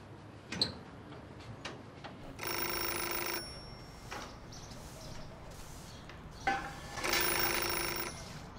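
A telephone rings indoors in two long electronic bursts separated by a pause, with scattered knocks and clicks between them and a faint voice in the room.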